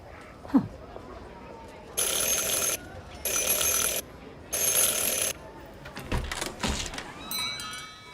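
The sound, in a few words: bell rung three times, video game Syberia The World Before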